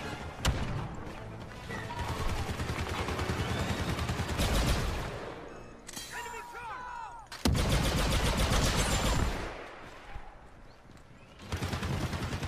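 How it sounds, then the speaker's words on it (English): Heavy-class trooper's new gun in Star Wars Battlefront 2 firing in loud sustained bursts, broken by short pauses and a few sharper impacts, with continuous battle noise underneath. "Let's try the heavy with the new gun that they gave me."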